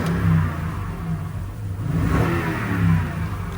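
A 2011 Toyota Sequoia Platinum 4WD engine revs up several times, rising and falling in a throaty surge before settling back to idle, close and loud.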